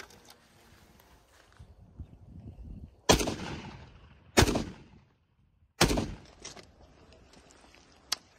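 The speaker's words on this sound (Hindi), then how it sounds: "हम इसको मज़ीद टेस्ट फायर करेंगे अभी" Saiga .308 rifle test-fired outdoors: three sharp, loud gunshots spaced about a second and a half apart, each with a ringing tail, followed by a smaller sharp crack, with faint shuffling and handling noise between shots.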